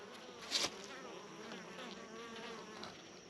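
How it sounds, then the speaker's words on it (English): Steady low buzzing of many honeybees close by at a hive entrance, with a few individual bees droning past louder for a moment. "You can see the bees coming and going."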